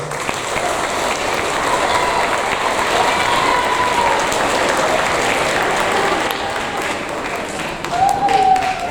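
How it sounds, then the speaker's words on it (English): Sustained audience applause at a seventh-grade school awards ceremony, a dense, steady wash of many hands clapping at once that holds loud and even for the whole stretch, with faint voices mixed in beneath it. "All right, another round of applause."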